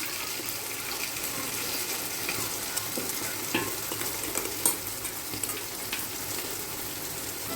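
Biryani masala powder gets stirred through a hot pan, a continuous soft frying hiss broken by scraping spoon strokes and a few sharper clinks, close and fairly quiet with no talking.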